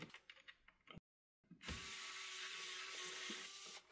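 Screws being backed out of an HP Spectre x360 laptop during a battery replacement, heard as a soft whirring driver buzz after a few faint clicks and a brief silence, close and quiet.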